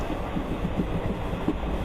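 A train travelling on a railway through Tumkur district en route toward Andhra Pradesh, heard as a steady, rumbling rolling noise from inside the carriage, even and moderately quiet throughout.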